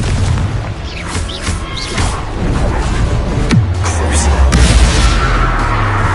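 A Confringo spell detonates in Hogwarts Legacy with a deep booming impact amid loud, busy combat sounds and low rumbling, the blast blending into continuous game action.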